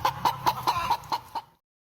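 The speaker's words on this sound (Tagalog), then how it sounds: "Tawang-tawa pa nga kami nun kasi may pumuputak habang nagkaklase yung teacher namin" A chicken clucks in a cartoon classroom, a quick rhythmic run of about seven sharp clucks, close and clear with no talking.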